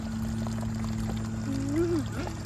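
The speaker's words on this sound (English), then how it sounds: "she's filled my cup up for the water here in the spring" Spring water pours into a cup at a roadside spring in Bethel Springs, Tennessee, a steady close trickle whose pitch rises as the cup fills, over a constant low hum.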